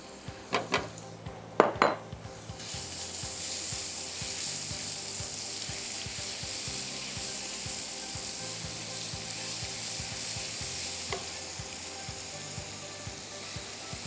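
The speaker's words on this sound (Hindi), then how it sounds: "फ्लावर्ड एंड सीजन चिकन डाल देंगे, ठीक है? और फिर आप उसमें लहसुन शामिल करिए।" After a few sharp clinks of a utensil against the pan, seasoned chicken and crushed garlic frying in a pan settle into a strong, continuous close-up sizzle with occasional faint scrapes.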